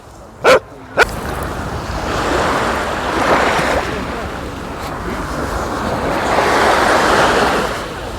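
Sea waves roll onto the Odesa shore near Langeron, a broad, loud surging wash that swells and recedes twice, opened by two short, sharp dog barks.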